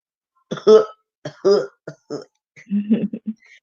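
Several close, sharp coughs in quick succession, a pause, then a rougher burst of coughing and throat clearing, loud and alone.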